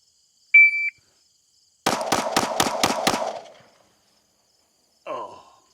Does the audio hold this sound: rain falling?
no